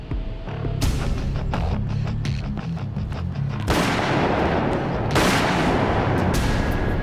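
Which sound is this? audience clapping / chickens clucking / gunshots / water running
gunshots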